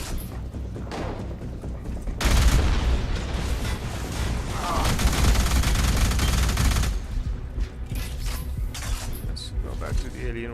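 Alien rifle gunfire in the Alien Rage video game: quieter shots at first, then a long loud stream of rapid automatic fire lasting several seconds, followed by lighter scattered shots and effects.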